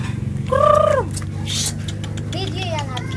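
A chicken makes loud gobbling calls, a rising warbling cry then shorter chattering calls, close by over a steady low hum.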